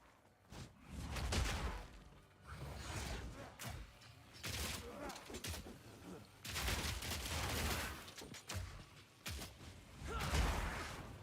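Incendiary crossbow bolts firing in Path of Exile 2, bursts of sharp shots and fiery whooshes coming in clustered volleys with short pauses between them.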